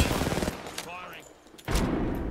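Gunfire in the battle royale game Apex Legends: bursts of shots at the start and again near the end, with a quieter gap between, heard over game sound.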